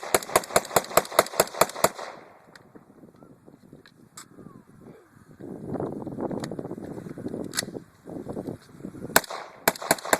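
A historical military firearm fires in a rapid burst of sharp, evenly spaced shots at an outdoor demonstration at Fort Dobbs, then quieter crowd murmur and wind follow before another short burst near the end.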